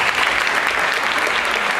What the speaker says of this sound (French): et je vous demande de les applaudir